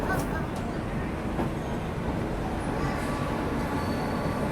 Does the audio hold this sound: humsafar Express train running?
yes